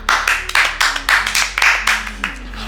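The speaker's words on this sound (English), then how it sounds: "Clap it up." An audience claps in a quick, regular beat for the winner of a national bake-off, each hand strike distinct and near, with a faint voice underneath.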